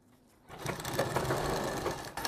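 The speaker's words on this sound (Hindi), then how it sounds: "यहाँ पे ऐसे एक सिलाई और लगा लीजिए जो कि बाद में निकाल देंगे ये भी एक कच्ची सिलाई है" A sewing machine runs a quick burst of loose tacking stitches on a round kurti collar, starting after a short quiet moment and whirring steadily close by, then tapering off at the end.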